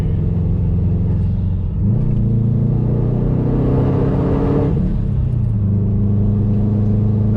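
A loud, droning engine with a raw exhaust rumble, mufflers removed, that shifts pitch as the car climbs and changes gears.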